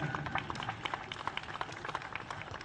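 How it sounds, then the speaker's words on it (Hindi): A seated audience at a school function claps in a dense, even patter of many hands, faint and somewhat distant, with no voices over it. "क्या अपने लिए नहीं बनती तालियां?"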